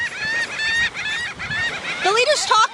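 A flock of birds on a beach honks loudly and repeatedly in overlapping, goose-like calls that rise and fall close by, with scattered voices underneath.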